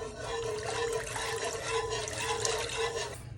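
Two cups of vegetable broth pour steadily into a pot over chopped white onion, a continuous close liquid splash and gurgle for several seconds with no talk.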